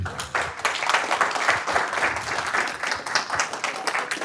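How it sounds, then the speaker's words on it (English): A conference audience applauds two speakers after a talk on biodiversity conservation and technology, a steady, moderately loud wash of clapping lasting a few seconds. "Round of applause for Gregory and Belén."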